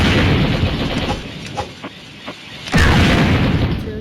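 Booming blasts and gunfire from the Mini Militia mobile game, starting with heavy explosive bursts, dropping to a few sparse pops, then ending in another loud blast with a rumbling tail.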